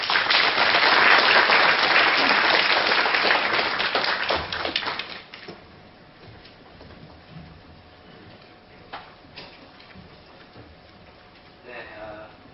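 An audience at a lecture claps warmly to welcome professor Kim Ji-hyun, a thick burst of applause for about five seconds that fades into quiet room sounds and a few stray taps.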